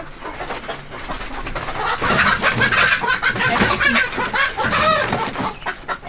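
Chickens clucking and squawking in agitation while their wings are being trimmed, a dense, continuous, loud mix of close-up calls with no speech.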